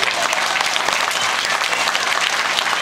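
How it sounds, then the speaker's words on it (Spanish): A crowd at a public inauguration of a political party's community office bursts into loud, sustained applause, dense and steady throughout, with no voice over it. "Yo quiero que le den un fuerte aplauso para ellos,"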